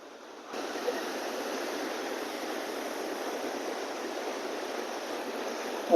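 Sea waves splashing against rocky coast at Lloret de Mar, a steady broadband wash that starts abruptly and holds at a moderate, even level with no voices.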